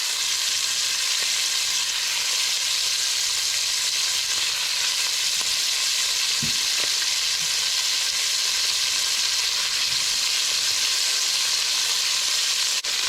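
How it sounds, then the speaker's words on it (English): Pieces of meat brown in a hot pan for a bacon, oxtail and liver soup, giving a loud, continuous, even sizzle close by with no talk. "I'm just going to give those a little fry"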